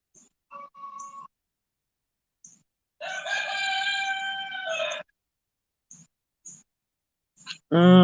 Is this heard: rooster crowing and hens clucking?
yes